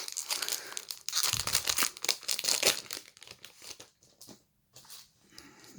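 A Pokémon Sword and Shield booster pack is torn open close up, with a burst of sharp ripping and crinkling foil over about three seconds, then softer rustling of cards.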